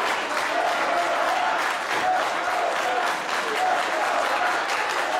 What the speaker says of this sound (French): La foule à Sainte-Thérèse qui s'anime.